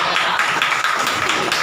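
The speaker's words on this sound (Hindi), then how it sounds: "बजाना ताली" A church congregation claps together, giving a dense, steady patter of many hands that stays close and loud for the whole short stretch.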